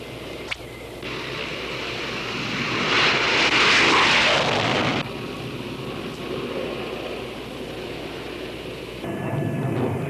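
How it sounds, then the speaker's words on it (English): Military jet planes flying in close formation during the Vietnam War, their loud, continuous roar swelling to a peak and then holding steady before easing off, with no talk. "the planes move off in close formation into North Vietnam"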